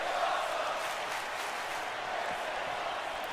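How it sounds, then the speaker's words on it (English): A steady, loud arena crowd roar fills a wrestling match in the WWE 2K22 video game, with the chanting crowd sustained throughout and no break. "Crowd chanting. This is awesome."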